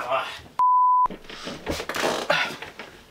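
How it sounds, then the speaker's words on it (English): A mobile phone rings with an incoming call, a single steady electronic tone lasting about half a second, loud and close, with a person talking before and after it. "somebody's calling my phone"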